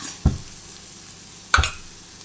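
Masala for capsicum masala sautés in a pan with a quiet steady sizzle, interrupted by two distinct scraping stirs, one early and one about a second and a half later.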